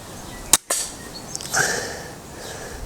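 Rifle shot fired during a scope test for a Sightron S1 riflescope review: a single sharp, loud crack outdoors, followed by a brief rumbling echo and quieter background noise.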